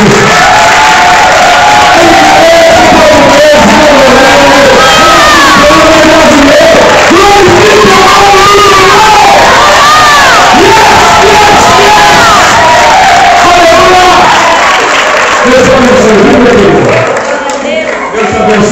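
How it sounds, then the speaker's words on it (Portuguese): A congregation at a multinational church service in Peterborough applauds and cheers, with dense clapping and shouts carrying loudly and steadily for the whole stretch before easing slightly near the end. "Você pode aplaudir mais uma vez a Senhora Jesus?"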